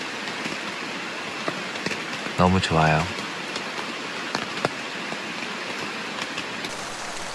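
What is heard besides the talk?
rain falling on a campsite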